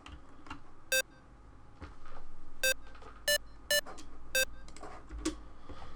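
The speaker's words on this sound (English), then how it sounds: "I will show you the beep without the effect first" Several short, clean synth beeps sound in an uneven pattern over a faint background, each dry and abrupt with no echo or tail.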